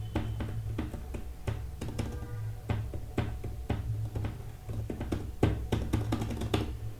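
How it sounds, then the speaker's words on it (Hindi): Quick, irregular tapping of a laptop's chiclet membrane keyboard, soft muted clicks in bursts at close range, no voices. "मेरे लैपटॉप का जो मेम्ब्रेन कीबोर्ड आता है चिकलेट, वो उसकी आवाज़ कुछ ऐसी होती है।"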